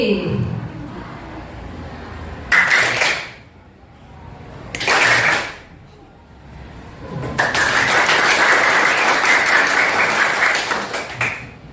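Students in a classroom coaching exercise clap their hands in three bursts, two short ones and then a longer sustained round, fairly close and loud with quiet gaps between.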